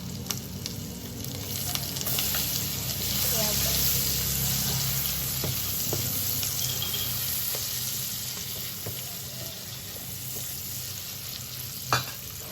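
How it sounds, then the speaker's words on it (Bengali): Onions fry lightly in butter with cumin and green chilli in a pan for pav bhaji, a steady close sizzle broken by stirring scrapes and ending in a sharp utensil clink. "পেঁয়াজগুলো লাল লাল করতে হবে না একটু করলেই হয়ে যাবে হালকা একটু ফ্রাই করে নিতে হবে"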